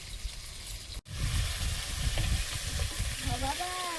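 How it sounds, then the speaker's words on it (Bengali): Fish fry in hot oil in a pan, a steady, fairly close sizzling hiss that starts after a brief cut and continues under faint voices. "মাছগুলো ভাজা হয়ে গেছে, তুলে নেব।"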